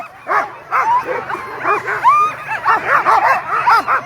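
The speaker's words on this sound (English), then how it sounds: "Those lead dogs are fired up." Sled dogs at the start line of the Knik 100 race at Knik Lake, Alaska, bark, yip and whine excitedly in a dense, continuous chorus close by, with overlapping high-pitched yelps throughout.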